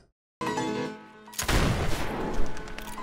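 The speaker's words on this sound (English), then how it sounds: "This man is shooting guns." Gunfire in a Bridgerton scene: a short burst of loud, echoing shots breaks out after a brief sustained tone, heard as a few seconds of sharp cracks with no talk over them.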